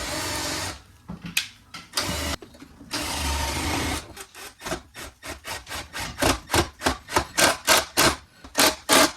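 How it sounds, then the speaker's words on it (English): A countersink bit drills into the back of a wooden drawer: a few longer grinding bursts give way to a rapid series of short, rhythmic drilling pulses, close and fairly loud. "I used a countersink bit on the back side of the drawer here"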